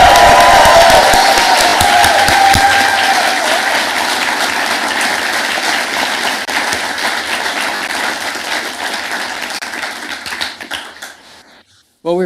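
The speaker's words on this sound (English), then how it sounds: "One more round of applause for all of our 2023" Graduation ceremony audience applauding and cheering for 2023 graduates, a loud, dense wash of clapping from a large crowd that gradually thins and fades out, followed by a brief voice at the end.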